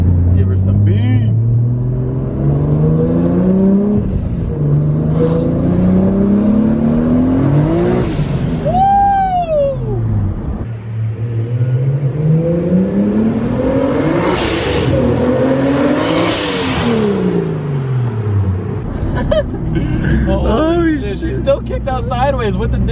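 Turbocharged Toyota Supra accelerating hard, the engine note sweeping up through repeated gear pulls with turbo whistle and whoosh between shifts, loud and close throughout.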